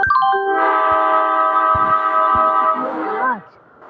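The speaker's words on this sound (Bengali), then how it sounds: "ওই ট্রেন এসে পড়ছে" A train horn blares in long sustained tones as the train arrives at a platform, then bends downward as it fades, with rumbling wheel and track noise underneath and brief thumps.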